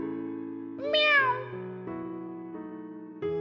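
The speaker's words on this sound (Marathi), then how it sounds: "मनी माऊ कशी ओरडते? म्याऊ म्याऊ म्याऊ म्याऊ।" A cat gives one clear, rising-and-falling meow close up, heard over a steady tonal music bed, with no voices.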